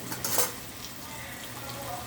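Ingredients for a sea-fish curry fry in a pan with a soft, steady sizzle and a light clink of a utensil near the start.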